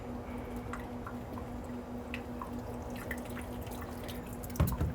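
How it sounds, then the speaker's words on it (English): Ultracentrifuge window liners being rinsed with water and ethanol in a lab, giving faint, scattered drips and small splashes over a steady low hum, with a brief louder clunk near the end. "The window liners themselves need to be rinsed with water and ethanol."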